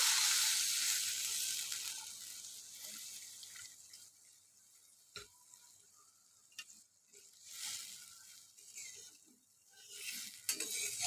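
Water poured into hot frying spice paste for a spicy pabda fish curry, a loud burst of hissing sizzle at the start that gradually fades into softer bubbling and spluttering with occasional clinks.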